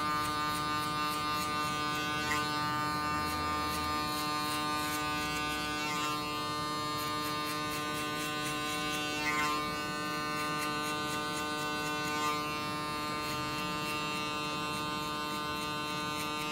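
Electric hair clippers trimming a mid fade haircut, a steady close buzzing drone with slight changes in pitch as the blades move through the hair.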